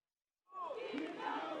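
Supporters cheering and shouting outside a prison's main gate as a released former provincial governor walks out, a dense crowd roar that starts abruptly and holds steady and loud.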